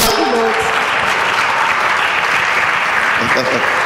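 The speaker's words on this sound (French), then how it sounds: "On acclame le Seigneur" A church congregation applauds steadily throughout, dense and loud clapping with some cheering, and a voice briefly breaks in near the end.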